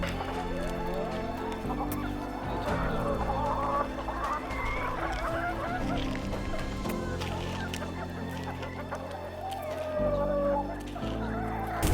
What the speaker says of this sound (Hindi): और अब तकरीबन मेरे पास जो है ना 200 मुर्गी हैं।